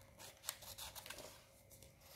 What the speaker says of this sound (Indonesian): Pokoknya kalian harus fokus kalau gunting kayak gini.